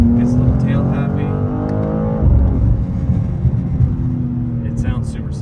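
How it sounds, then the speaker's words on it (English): A 2025 BMW M2 engine revs loudly up and down close by, with throaty exhaust rumble and crackly burbles as the throttle lifts, while someone talks over it. "if you just kind of gas it and let off the gas, it like does the little burbles"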